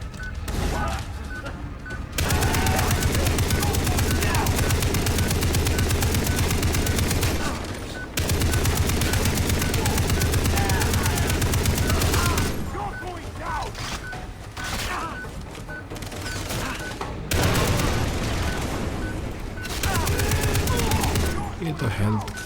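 Sustained automatic machine gun fire in the Far Cry 3 video game, loud and dense bursts with brief pauses between long volleys, along with a voice talking at times.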